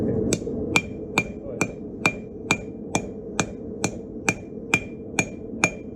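Hammer blows ring on hot metal at the anvil while a beginner forges a decorative leaf, about fourteen sharp, evenly spaced strikes, close and loud, with no talking.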